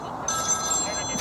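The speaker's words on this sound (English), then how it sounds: "Oh, typical, he's got a phone call now." A telephone rings with an incoming call at a lakeside bank, a bright electronic ring tone starting abruptly and holding steady, heard close with some background noise.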